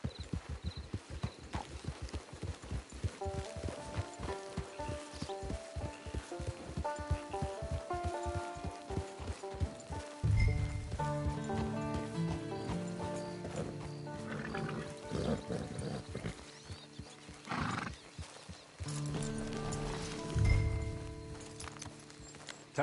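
Horse hooves clip-clop in a steady rhythm in a PS4 video game, moving at a walk over a continuous bed of game music, with a heavier rush of sound partway through.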